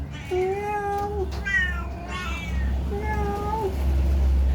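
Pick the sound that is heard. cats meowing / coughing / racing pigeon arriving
cats meowing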